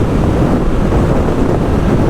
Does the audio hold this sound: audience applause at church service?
no